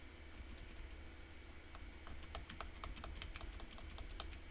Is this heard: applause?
no